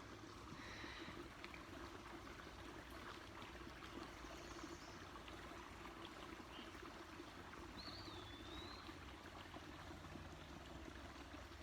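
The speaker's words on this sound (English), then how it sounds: "Can you hear the river?" A river flows through wet, muddy countryside as a steady, faint wash of running water, with a bird whistling briefly in the background.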